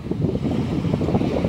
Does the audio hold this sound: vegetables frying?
no